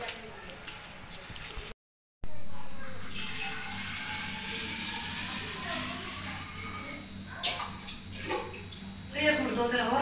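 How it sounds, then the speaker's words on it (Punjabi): A bottle is filled with water from a tap, a steady splashing flow that runs for several seconds with a rising fill tone, while people talk nearby. "ਬੋਤਲ ਭਰ ਲੈ ਪਾਣੀ ਦੀ"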